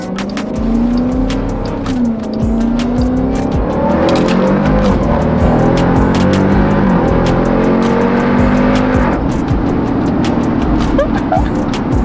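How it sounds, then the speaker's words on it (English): Stock Jeep Grand Cherokee Trackhawk with a supercharged engine under hard acceleration: a loud, continuous engine roar climbing in pitch through several gear changes, with supercharger whine layered over it, heard close from inside the vehicle. "the supercharger's so loud for a stock box."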